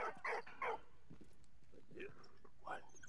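A dog in the World War I video game Valiant Hearts barks several times in short, sharp bursts spread across a few seconds, moderately loud over a low game backdrop.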